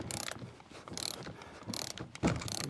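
Long ratchet clicking away as it loosens a 10mm bolt on a 2012 Honda Accord, a run of quick mechanical ratcheting bursts up close, with a sharper knock near the end.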